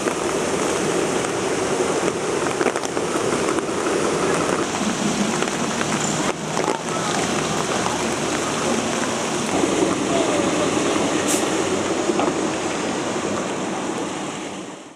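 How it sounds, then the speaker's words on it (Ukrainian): A flooded river swollen by heavy rain after a dam breach rushes loudly and continuously, a dense roar of churning water close by for the whole stretch. "Це річка."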